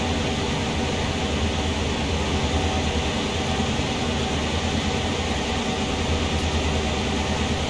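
An NS GP38-2 diesel locomotive in Train Sim World on Horseshoe Curve hums and rumbles steadily, a broad constant engine drone with no breaks, loud and close.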